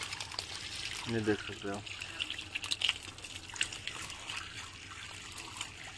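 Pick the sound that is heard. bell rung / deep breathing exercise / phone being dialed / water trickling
water trickling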